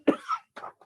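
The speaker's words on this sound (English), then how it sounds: "that wasn't me coughing, by the way." A person coughs close up: one sharp, heavy cough followed by two shorter, fainter coughs in under a second, with nothing else around them.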